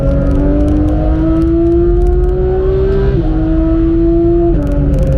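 A Porsche 991 GT3 flat-six engine drones loud and close while driving the Nürburgring GP track, holding a sustained rising tone with two brief dips as it shifts gears, no talk over it.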